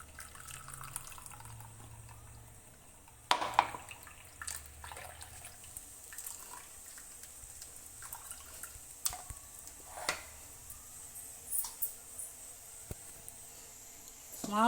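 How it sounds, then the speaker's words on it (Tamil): Ground beetroot pulp being strained, its juice trickling and dripping softly and steadily, with a few sharper clicks and knocks from the strainer and bowl. "நான் அரைச்சிட்டேன். இப்போ வடிகட்டிக்கிறேன்."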